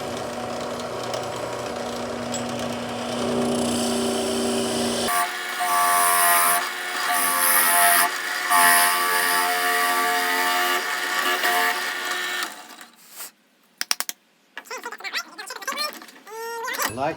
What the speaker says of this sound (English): So we're going to put it here on this drill press. And we are going to drill our hole.